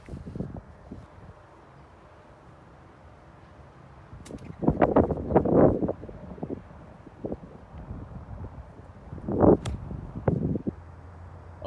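Gusting wind buffets the microphone on a golf course, rushing in uneven bursts that swell loudly twice before easing back to a low rumble, with no talking.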